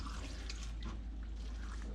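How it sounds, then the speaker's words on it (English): Water is poured into a pot of cut apples to make chunky applesauce. A steady splashing and gurgling pour runs for two seconds, close and fairly loud, with no voices. "Just gonna pour a little bit of this water,"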